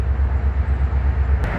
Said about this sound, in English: That's my train.